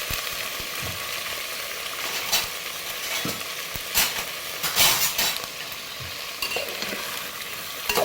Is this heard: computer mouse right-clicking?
no